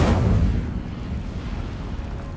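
A fire spell, Incendio, cast in the video game Hogwarts Legacy: a loud whooshing blast that starts strong and settles into a lingering roaring rumble, with no talk.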